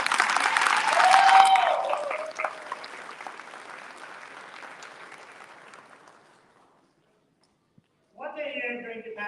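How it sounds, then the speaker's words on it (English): Graduation-ceremony audience applauds faculty at a 2022 university commencement; loud clapping swells early, then thins and fades to silence before a voice begins speaking near the end. "Another round of applause for faculty here."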